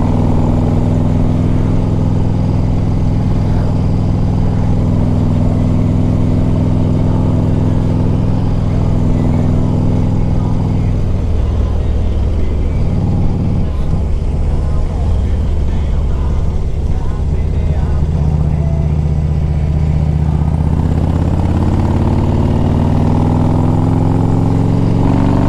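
A rebuilt 2001 Harley-Davidson Ultra Classic motorcycle engine with an S&S top end drones loudly and continuously with a low rumble, its pitch rising and falling as it revs, under occasional talking.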